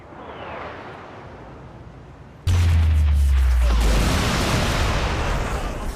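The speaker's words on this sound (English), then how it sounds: "we could call in an airstrike" Airstrike explosions in the video game Saints Row The Third: a distant rumble gives way to a sudden loud boom with a heavy low roar, followed by sustained crackling blast noise.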